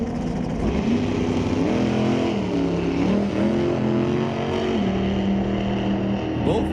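An LS-powered 1989 Ford Mustang and a 1964 Chevy II sit at a drag race start line, engines droning loud and steady with rising and falling revs throughout, with announcer talk faintly mixed in.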